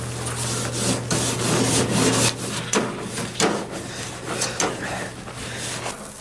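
Something being rubbed by hand, a run of uneven scrubbing strokes over about six seconds, close and fairly loud, with a steady low hum underneath.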